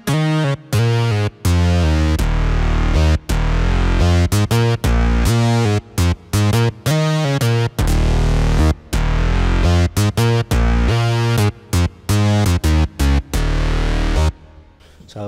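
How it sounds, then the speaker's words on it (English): A Korg Pa5X keyboard plays dry synth sounds in punchy, staccato chords and bass notes. The rhythmic phrases are loud and full, each cut off by short gaps, and they fade out at the end. "You can also activate really dry sounds like this."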